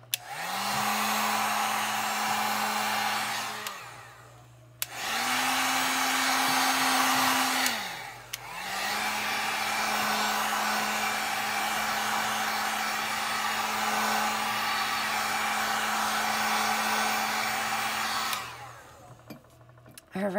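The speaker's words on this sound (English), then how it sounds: "Let's hit it with the heat gun real quick." Heat gun blowing on thermochromic pigment gives a close, steady whooshing roar with a constant motor whine, cut off briefly twice and restarted, running in three long bursts before stopping.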